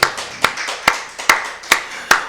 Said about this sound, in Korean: 우리 박수를 하나님께 감사드리겠습니다.